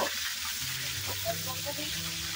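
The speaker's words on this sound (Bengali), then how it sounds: "চিকেন গুলোকে এখন একটু ফ্রাই করা চলছে তেলে।" Chicken pieces frying in oil: a dense, steady close sizzle with soft bubbling and faint stirring beneath, continuous throughout.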